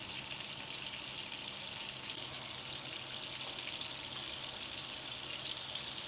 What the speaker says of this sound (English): Now we need to shallow fry and sear the koi fish on each side for around 2 minutes.